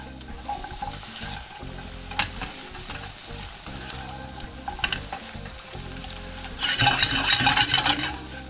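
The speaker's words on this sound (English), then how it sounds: "all I'm looking for on these mushrooms is just a little bit of browning on the outside" Mushrooms and paneer fry in a pan with a soft crackling sizzle, broken by scraping stirs, and the sizzle swells loudly near the end; nobody speaks.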